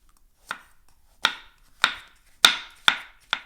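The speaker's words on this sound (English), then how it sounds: "And we chopped up our mushrooms." A knife slicing baby bella mushrooms on a cutting board, six crisp, close chops at an uneven, unhurried rhythm with quiet gaps between them.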